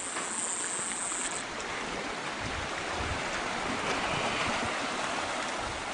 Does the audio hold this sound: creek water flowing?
yes